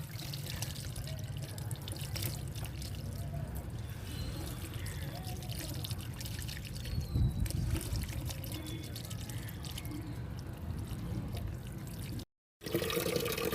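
Water is poured over a person bathing outdoors, a continuous splashing and trickling wash that stays steady and close throughout, with a brief dropout near the end.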